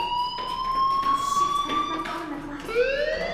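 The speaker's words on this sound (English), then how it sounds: "Hey, do you hear that fire alarm?" An electronic fire alarm sounds in the video game Life is Strange, a steady high-pitched electronic tone that holds, breaks and resumes, with rising tonal sweeps near the end beneath background sound.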